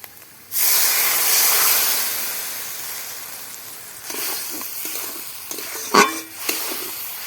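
Water rinsed from a spice-paste bowl hits a hot pan of spicy okra curry with a sudden loud sizzling hiss that slowly fades, followed by a few stirring scrapes and splutters.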